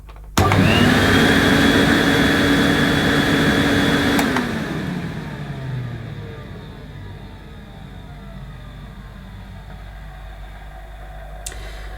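A vintage Electrolux 302 cylinder vacuum cleaner roars loudly for about four seconds, then winds down, its motor pitch falling and fading into a quieter hum.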